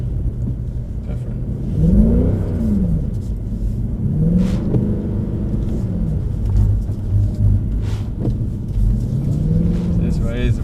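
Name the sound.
Black Series car engine revving on a circuit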